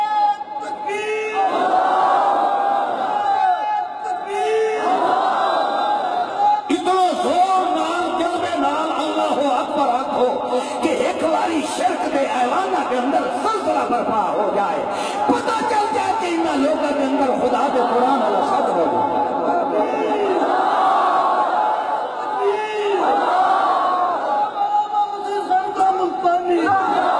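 A large crowd at a 12 Rabi ul Awal religious gathering in Talagang roars its reply to the Nara-e-Takbir slogan, with loud, sustained massed shouting that rises and falls in waves over a cleric's amplified voice.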